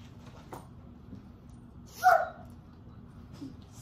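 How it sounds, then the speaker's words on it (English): A dog in a home gives a single short bark or yip partway through, set against quiet room background. "That's my grand dog."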